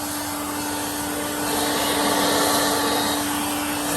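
A Craftsman V20 cordless axial leaf blower runs with a steady, loud whooshing motor roar and a constant high whine, swelling slightly midway and holding without pause.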